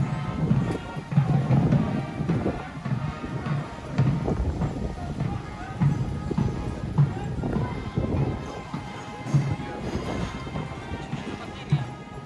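Horses of the Royal Horse Artillery walk on parade at a Trooping the Colour rehearsal, hooves clopping in an uneven, overlapping rhythm on hard ground amid crowd and outdoor noise, fairly close and steady.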